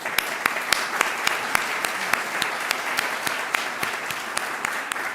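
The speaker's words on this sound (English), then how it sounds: "Please join me in giving a round of applause to our eminent panelists." An audience at a panel session on the waste sector and methane applauds steadily, with crisp individual claps standing out over a dense, even wash of clapping that carries on throughout.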